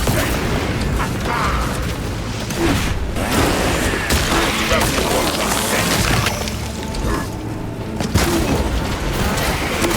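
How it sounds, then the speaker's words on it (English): Frag grenade blast in the Warhammer 40,000: Space Marine 2 video game, a loud boom amid dense, continuous battle noise with gunfire and shouted voices. "Frag grenade!"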